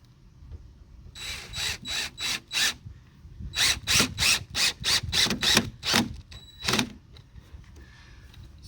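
A power drill drives a screw into a pre-drilled hole in wooden decking in a rapid series of short whirring bursts. There is a quick run of pulses, a brief pause, then a longer run of pulses before it goes quiet.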